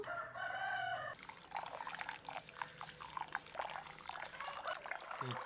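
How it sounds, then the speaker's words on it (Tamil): Rice is rinsed and rubbed in water in a home kitchen, with soft wet sloshes and drips coming in irregular bursts. A rooster crows nearby at the start, and no one speaks. "இந்த அரிசியை ரெண்டு மூன்று தண்ணியில் வடிவாக கழுகி போட்டு ஊற வைப்போம்"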